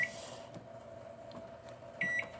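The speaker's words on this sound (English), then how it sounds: "Then you put it in your microwave." A home microwave oven hums steadily while heating a lightly wetted dish, with a short electronic beep near the start and another near the end.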